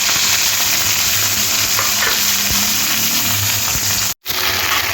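Chopped onions with bay leaves and whole garam masala sizzle loudly in hot mustard oil, a steady dense crackle with occasional stirring scrapes and a brief cut near the end.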